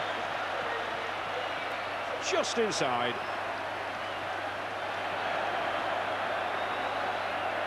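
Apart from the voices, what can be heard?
rugby crowd cheering at Challenge Cup Final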